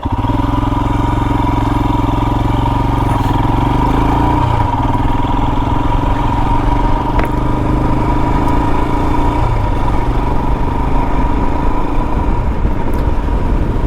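A 2022 Royal Enfield Himalayan motorcycle engine runs steadily and loud throughout while riding, with a shift in pitch around the gear changes and wind roar mixed in.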